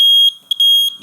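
An electronic buzzer on a school model sounds a loud, piercing tone, clipped by brief pauses and sputters before it resumes.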